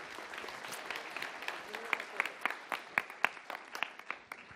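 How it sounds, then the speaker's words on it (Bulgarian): Audience applause for a presenter at a QA lightning talks event, a steady wash of clapping with sharper individual claps standing out toward the end, heard indoors with moderate loudness. "Аплодисменти за Светослав."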